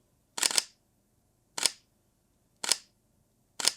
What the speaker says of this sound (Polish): To jest z, z tym trybem migawki elektronicznej pierwszej kurtynki.